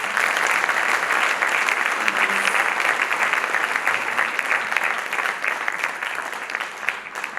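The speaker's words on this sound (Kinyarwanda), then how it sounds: "ubakomere amashyi beza" A church audience applauds loudly and steadily, dense clapping close by that continues for several seconds with a few faint voices underneath.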